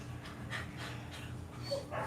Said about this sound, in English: She should make that dog outside shut up.